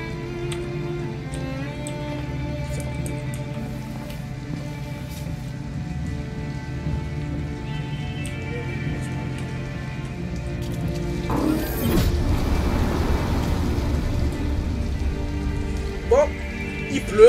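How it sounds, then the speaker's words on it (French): Rain from Detroit: Become Human falls steadily in a game scene over a low droning score, and the downpour swells louder and fuller partway through. "Bon, il pleut."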